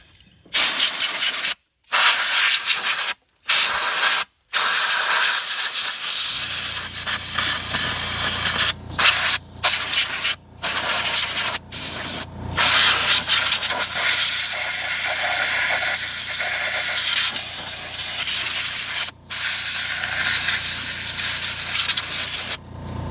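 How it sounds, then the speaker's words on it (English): Air compressor blowing compressed air to clean a John Deere, including around the cooling fins: loud continuous spraying hiss with several brief pauses, the compressor motor running underneath through most of the stretch. "The compressor may kick on, so if you got earbuds in, now's the time to turn them down."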